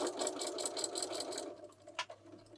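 A sewing machine stitching around a fabric wine gift bag, a fast even whirring run of needle strokes for about a second and a half, then stopping, followed by a soft click and low room hum.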